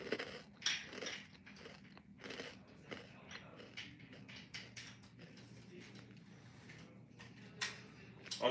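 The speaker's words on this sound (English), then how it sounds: "I'm eating hot Cheetos." Hot Cheetos are chewed and crunched close up, a run of faint crisp bites and irregular crunchy mastication clicks with quiet gaps between, no speech.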